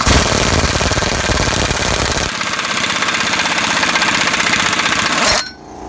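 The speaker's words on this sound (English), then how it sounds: "Got my 7/8 socket and my Ingersoll wrench." Ingersoll impact wrench with a 7/8 socket driving a ball joint removal tool to push out a ball joint on a Dodge Ram 1500, a loud, continuous rattling hammer that shifts pitch partway through and stops abruptly near the end.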